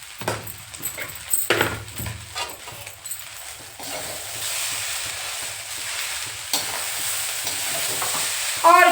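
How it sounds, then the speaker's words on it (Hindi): Food fries in a pan after salt goes in, with a spoon stirring and scraping in short strokes over the first few seconds, then a steady soft sizzle and hiss close by. "अब इसको थोड़ा मिक्स कर देते हैं"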